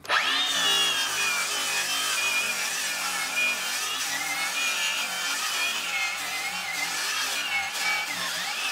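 Continuous loud power saw cutting through a wooden guitar headstock scarf joint, a steady whining, rasping drone with shifting pitch that holds for several seconds with no speech.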